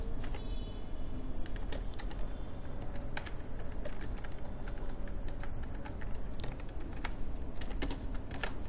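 Addresses being typed on a computer keyboard, a rapid, steady run of close key clicks with occasional sharper taps, continuing without pause and with no voices.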